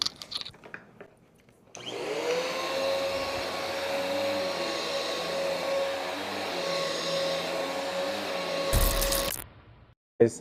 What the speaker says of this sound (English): time to do my vacuuming